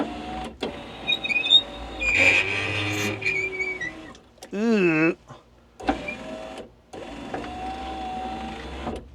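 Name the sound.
car power window motor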